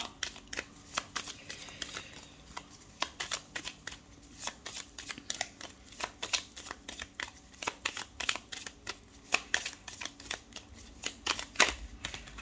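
Tarot cards shuffled by hand at close range, a long run of quick crisp riffling flicks and soft slaps in an uneven rhythm, with no talking.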